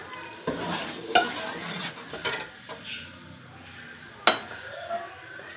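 Shredded chicken with a little water is stirred into frying masala for Pakistani halim, giving soft sizzling and scraping stirs with a couple of sharp clinks of a spoon against the pot.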